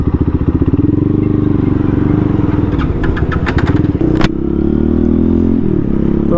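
A Yamaha R15 sport motorcycle on the move, its steady engine drone loud and close throughout, with brief clattering and scraping bursts partway through and a shift in engine tone near the end.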